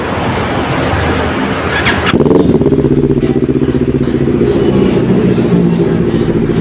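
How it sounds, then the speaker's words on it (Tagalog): A motorcycle engine with a loud aftermarket muffler and no silencer idles with a raspy, throaty rumble that steps up in volume partway through and keeps chugging steadily. "So maingay daw kasi naka-install sa kanya na muffler."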